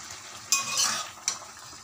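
A pan of vegetarian vegetable curry with drumsticks cooks in a home kitchen, with a soft background sizzle broken by two sharp metallic clinks of a spoon stirring against the pan.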